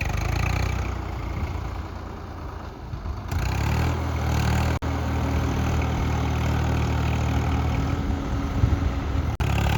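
A farm tractor used for wet-field puddling idles in a steady, low rumble close by, with a brief shift in tone partway through and no voices.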